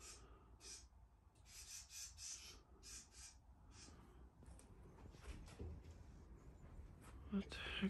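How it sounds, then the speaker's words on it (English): Small birds caught inside an abandoned house give scratchy squawks and chirps in short bursts, fairly close, over a faint rustling room background. "Oh, birds. Little birds."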